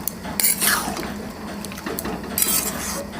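Chicken ghugni with peas and potatoes being stirred in a pot, with close metallic scrapes and clinks of a spoon against the pot and a wet, thick simmering texture, irregular strokes throughout with no talking.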